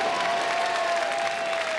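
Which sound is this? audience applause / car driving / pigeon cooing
audience applause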